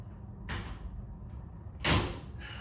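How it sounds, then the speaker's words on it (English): A door in a home is shut late at night: a short whoosh of movement, then a louder, close thud as it closes about a second and a half later, with no voices. "I gotta close the door, y'all, because it's late."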